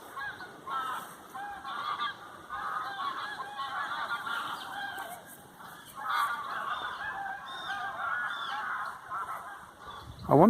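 Swans honking out in a harvested field, a long run of loud overlapping nasal honks from a flock, steady and fairly close, ending with a brief louder noise near the microphone.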